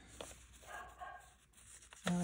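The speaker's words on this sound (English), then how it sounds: "oh, there go my dogs." Dogs bark faintly in the background, a few short yips scattered through a quiet indoor room, distant and brief.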